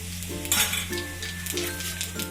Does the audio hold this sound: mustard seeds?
yes